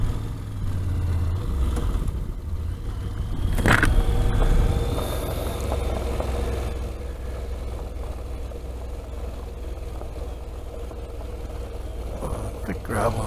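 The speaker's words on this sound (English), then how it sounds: "Good gravel road, it's awesome." A Honda NC700X motorcycle rides along a gravel road, its engine a steady low drone joined by wind rumble, with a louder swell around four seconds and continuous noise throughout.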